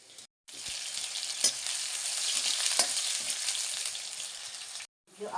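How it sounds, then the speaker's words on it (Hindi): Black soybeans (bhatt) roasting in a pan, a steady dry sizzle and crackle with occasional stirring scrapes, fairly close and continuous for several seconds between brief silent gaps, no talking. "इधर ली तो भाट को हमने इसमें से भून दिया एक बार।"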